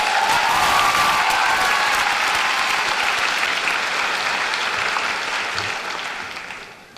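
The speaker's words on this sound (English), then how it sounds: "Give that person a round of applause." Loud, sustained applause from a large crowd at a high school graduation, dense steady clapping that gradually fades toward the end.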